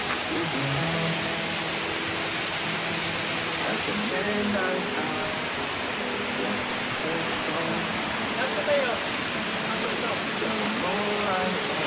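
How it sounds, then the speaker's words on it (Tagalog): Kinahulugan Falls in Lagonoy, Camarines Sur, pours in a steady, loud broadband rush throughout, with people talking faintly underneath at times. "Ang ganda ng falls."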